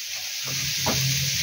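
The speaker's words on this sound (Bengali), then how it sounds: "এটা একটু ভাজা ভাজা হোক" Food frying in a pan on a home stove, a steady broad sizzle with stirring scrapes, close and fairly loud, with no talking.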